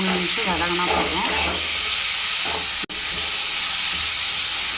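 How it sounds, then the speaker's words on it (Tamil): Onion and capsicum sauté in a hot pan with a steady, loud sizzle and hiss, broken by stirring scrapes and a brief cut near the end. "வெங்காயமும் குடமிளகாவும் ஒரு 2லேருந்து 3 நிமிஷம் வதங்கினா போதும்."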